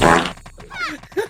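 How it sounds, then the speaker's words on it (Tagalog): A short, loud, sputtering fart, close and alone, followed by brief grunting vocal sounds. "Umutot."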